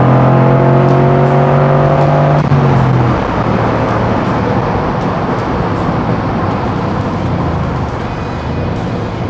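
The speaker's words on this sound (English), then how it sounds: "Sorry, rev limiter." A 1961 Corvette engine holds a loud, steady, rough drone against the rev limiter at close range before spreading into a harsher roar; no one speaks.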